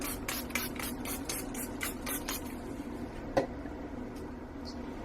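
Alcohol sprayed onto soap: a quick run of about eight short hissing spray bursts at the start, close and moderately loud, then quiet handling with one small tap.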